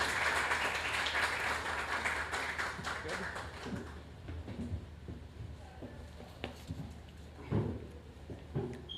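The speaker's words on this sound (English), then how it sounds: "With a big round of applause." An audience at a literary festival opening applauds to welcome the Deputy PS to the stage, the clapping strongest at first and then thinning out into scattered claps and a few taps.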